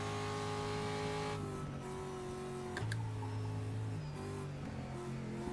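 A Pro Lite race truck with a three-speed gearbox drones at high revs on a road course, its engine pitch dropping and rising through gear changes, with a brief sharp squeal near the middle.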